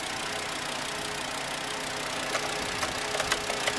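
A 2008 Volkswagen Beetle SE's 2.5-liter five-cylinder engine idles with a steady, even hum, heard up close under the open hood, joined near the end by a few light clicks or taps.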